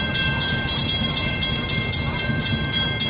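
An FEC freight train rolls past close by, a steady loud rumble of rail cars with rhythmic wheel clatter throughout and no voices.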